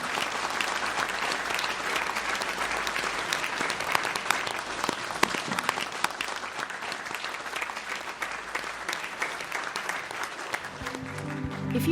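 A live audience applauds a discussion panel at the close of a broadcast talk: sustained, full-bodied clapping from a large crowd that stays loud and steady for many seconds, with musical tones creeping in at the very end.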